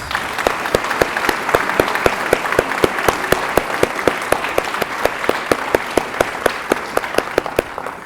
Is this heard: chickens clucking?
no